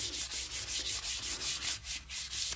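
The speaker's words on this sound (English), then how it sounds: "rub over it with this, what size is this? 600 grit sandpaper" A plastic water bottle rubbed with 600 grit sandpaper, quick steady back-and-forth scratchy strokes in an even rhythm, close and fairly quiet.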